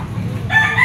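A gamecock, a yellow-legged bull stag offered at a fighting-cock market in Lipa, Batangas, lets out a brief crow that rises near the end, close and fairly loud over a steady low background hum.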